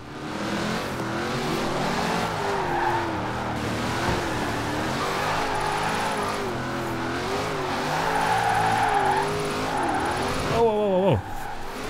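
A Ford Mustang drifting in Forza Horizon 4, its engine revving and wavering through slides with tire squeal, then a sharp rising skid near the end, while someone talks over it.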